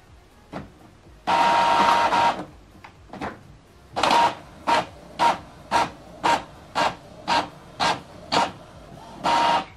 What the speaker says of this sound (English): Printing complete.